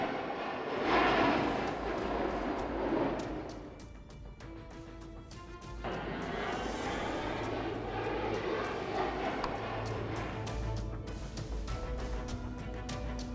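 An AV-8B Harrier jet makes a vertical emergency landing on the warship USS Bataan after a front landing gear fault, its engine roaring loudly and steadily throughout with no talk.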